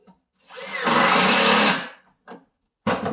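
A power driver runs a screw into a wooden cabinet rollout: a close, loud whirring burst lasting about a second, followed by short bursts of the tool and brief talking.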